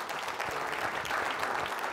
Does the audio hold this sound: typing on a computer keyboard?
no